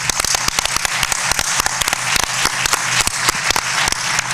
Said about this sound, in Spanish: a lo mejor sí que se pone para que le demos un abrazo o un buen aplauso